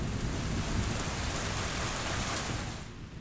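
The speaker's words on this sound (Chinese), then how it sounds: "打雷的时候我们用到了下雨的环境音效" Dense, steady rain pours with a low rumble of thunder underneath, a full close ambience that cuts off abruptly just before the end.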